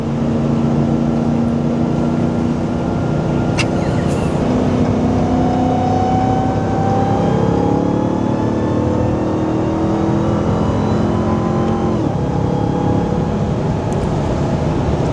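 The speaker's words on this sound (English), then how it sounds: "I can already tell by the sound of that supercharger there's a pretty substantial difference." Supercharged engine of a Ram TRX truck accelerating, a loud sustained drone with whine tones rising in pitch through the gears, heard from inside the cabin.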